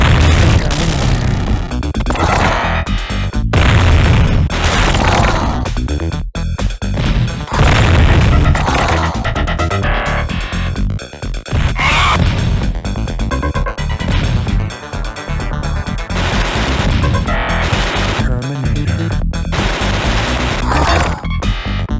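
Dense, nonstop barrage of gory enemy death explosions and gunfire from the Robocop vs Terminator game on Mega Drive/Genesis, with repeated sharp crashes and booms layered over loud game music throughout.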